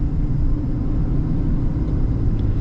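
A used Chevy Silverado ZR2 with the 6.2 engine and Multimatic shocks cruises along, giving off a steady, loud, low rumble of tire and road noise with engine drone and no voices.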